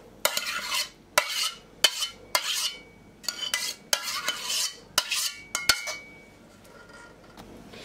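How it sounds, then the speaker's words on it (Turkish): A spoon scrapes and clinks against a pot while a pudding mixture is emptied into a wetted square glass dish, sharp close metallic knocks every second or so amid quieter scraping. "Islattığım kare bir borcamın içerisine boşaltıyorum."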